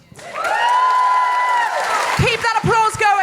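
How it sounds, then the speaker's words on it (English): A live comedy podcast audience in Auckland applauds and cheers loudly and steadily, with a voice calling out over the crowd near the end. "Keep that applause going"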